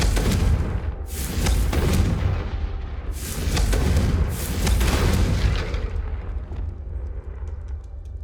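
Explosive Confringo spell blasts in Hogwarts Legacy, a series of heavy booming bursts with deep rumbling low end, several overlapping detonations in quick succession, loud and close, fading into a lingering crackling tail.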